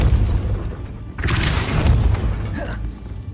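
The Depulso spell cast in Hogwarts Legacy gives a heavy booming whoosh with a shattering burst, followed by lighter magical chimes, over a low rumbling game background.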